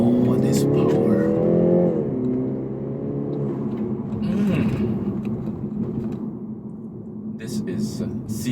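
A 2019 BMW 330i G20 engine accelerates with a smooth rising tone, loud and close inside the car, then eases off as road noise and a voice carry on.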